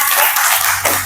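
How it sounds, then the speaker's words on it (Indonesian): A short burst of applause from a group after a presentation in a school gathering, close and loud, fading out within about a second. "berikan aplaus dulu"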